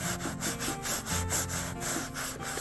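A sponge rubs leather protector onto a car seat, making a steady rhythmic scrubbing with about ten back-and-forth strokes, close and fairly loud with no talking.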